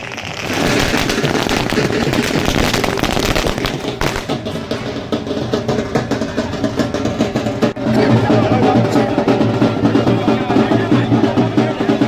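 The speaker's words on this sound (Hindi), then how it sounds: "सांसद गजेंद्र सिंह पटेल और भाजपा कार्यकर्ताओं ने आतिशबाजी के साथ ही मिठाई और झालमुड़ी बांटी" Firecrackers and fireworks going off at a BJP victory celebration at Shri Ram Chowk in Barwani, a loud, dense, continuous crackle of rapid bangs throughout, with crowd noise beneath.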